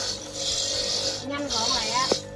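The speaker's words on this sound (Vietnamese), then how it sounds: "Bây giờ mình sẽ nạo bằng máy nha." A machine grates coconut for a Vietnamese steamed banana cake, giving a loud rasping whir in two long bursts with a short pause between, while someone talks near the end.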